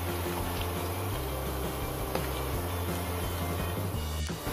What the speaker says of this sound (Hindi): हमें भिंडी को डीप फ्राई करना है।